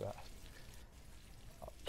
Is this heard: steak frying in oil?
yes